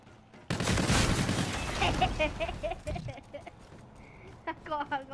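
A loud burst of gunfire in Call of Duty: Infinite Warfare, rapid shots hammering out at first and then thinning to scattered bursts, with voices talking over the action.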